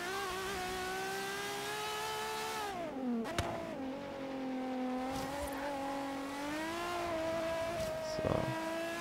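A racing car engine in Forza Horizon 3 revs high and steady, dipping as it shifts and climbing again, with a sustained whine close up and a few short knocks over the drone.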